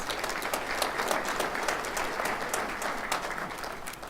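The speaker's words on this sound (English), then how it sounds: "Could you give her a round of applause?" A graduation ceremony crowd gives a round of applause, an even wash of many hands clapping, moderately loud and unbroken across the clip.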